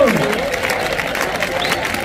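Crowd applause closes a bullfighting festival exhibition at Valsaín, a brief burst of dense clapping from a large audience mixed with cheering voices, loud and close throughout.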